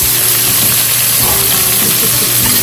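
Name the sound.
garlic and onion sautéing in a pan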